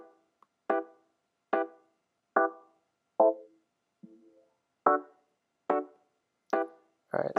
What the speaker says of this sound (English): I'm going to throw the new auto filter on the chords that sound like this.